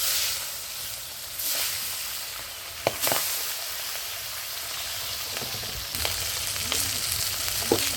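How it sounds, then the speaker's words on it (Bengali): Pabda fish fries in oil in a pan for a tomato-onion curry, a steady loud sizzle broken by a few sharp utensil clicks, with no voices. "বাকি যে মাছটা আছে ভেজে নিই।"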